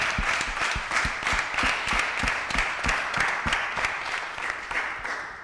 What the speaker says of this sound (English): can you please give ourselves a round of applause for making it